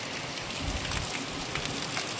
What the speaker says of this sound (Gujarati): વરસાદ પણ અમારા એ ફૂલ આવે છે જોરદાર